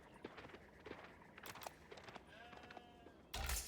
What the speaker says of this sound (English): Looks like he found all the sheep.